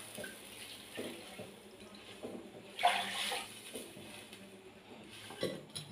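Water is poured from a cup into a pan while kesari is being made. The pour makes a soft, continuous splashing with a louder surge midway, heard close up.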